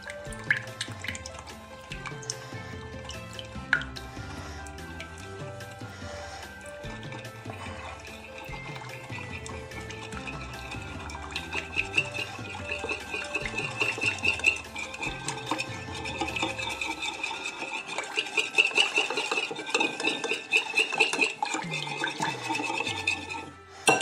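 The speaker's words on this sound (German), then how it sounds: "das mischen wir jetzt auf" Homemade piping gel being mixed in a bowl: a steady, rhythmic scraping and clinking stir that runs continuously and close, with a bright tonal hum persisting underneath.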